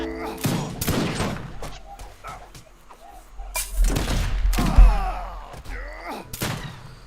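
Musket volleys ring out during a battle in Age of Empires 3 Wars of Liberty, with repeated loud cracking gunfire bursts and booming thuds amid ongoing combat noise.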